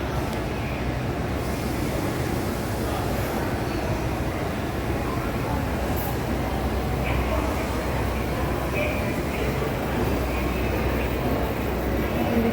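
A Tokyo Metro Ginza Line train rumbles throughout with a loud, even roar and rattle from the ride, with no break or change over the whole stretch.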